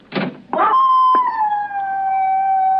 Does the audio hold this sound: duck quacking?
no